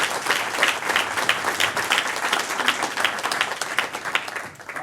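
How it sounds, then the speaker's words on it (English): An audience at a product management talk during SXSW in Austin gives sustained applause, a dense wash of clapping that holds steady for several seconds and tapers slightly near the end. "Have a round of applause."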